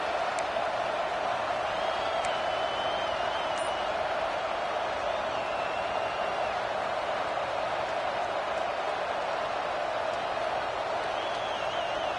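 Stadium crowd noise from the NCAA 26 college football video game forms a dense, steady roar throughout, with faint whistle-like calls and cheers rising here and there in the distant background.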